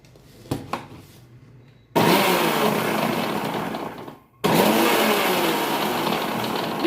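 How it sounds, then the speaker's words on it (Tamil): Mixer grinder blending tender coconut milkshake with milk in a jar, two loud whirring bursts, the first about two and a half seconds long and the second continuing to the end, after a few quiet clicks. "இப்போ நீங்கள் பால் ஆட் பண்ணிக்கிட்டு அதை நல்லா நீங்கள் மிக்சி ஜாரில் போட்டு அரைச்சிக்கலாம்."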